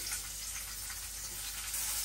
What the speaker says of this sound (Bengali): যে তেল দিয়ে দিচ্ছি, এখন এই যে পেঁয়াজ কুচি দিয়ে দিলাম।